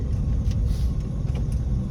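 Congested road traffic, cars and engines rumbling steadily at close range in a slow jam, a dense low drone without pauses and no one speaking.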